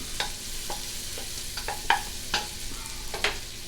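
Soft crackling and sizzling of vegetables sweating in a pot for curry squash lentil soup, scattered light pops and taps at an irregular rhythm, fairly close and quiet.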